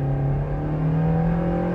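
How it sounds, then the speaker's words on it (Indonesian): A 2022 Toyota Vios with a 106 PS engine pulls at full throttle in sport mode, giving a steady, rising engine drone heard from inside the car, continuous and fairly loud, with no voices. "ketika masuk ke mode sport seperti ini dan menekan gas penuh"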